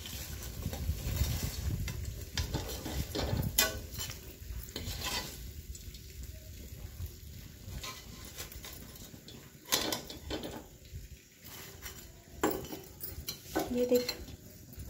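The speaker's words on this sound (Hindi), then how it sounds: "अब हम इसे तलेंगे।" Onions fry in a pan for an Indian kande ki sabji, a soft sizzle running under repeated scrapes and clinks of a spoon stirring against the metal.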